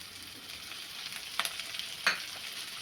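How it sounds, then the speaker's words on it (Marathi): Onion sautéing in a pan for dal tadka makes a soft, steady sizzle, with two sharper spatula scrapes near the middle and no speech. "कांदा थोडासा परतून घ्यायचा आहे"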